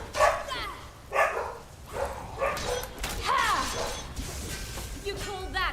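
Dogs bark in the video game Skyrim, several sharp yelps and barks in bursts amid clashing, shattering combat effects, with dialogue voices speaking over the action.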